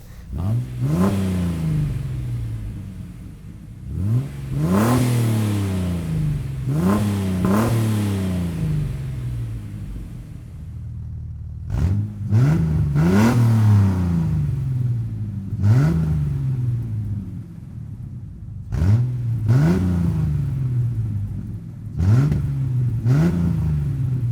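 A Jeep TJ engine with straight-piped exhaust repeatedly revs up and drops back, about eight throaty bursts with a raw, unmuffled exhaust roar between idle pauses.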